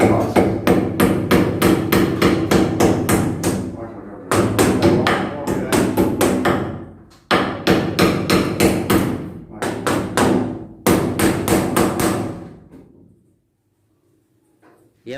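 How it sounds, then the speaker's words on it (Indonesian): A hammer strikes nails while a house ceiling is being installed, in rapid, loud, close series of blows broken by brief pauses, then fading into quiet at the end. "Tukang bangunan pasang plafon rumah saat video dibuat konten malah pakunya tidak masuk pas dipukul."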